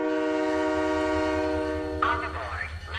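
A train in the video game Halo 3: ODST sounds a loud, sustained multi-tone horn, and a departure announcement cuts in near the end.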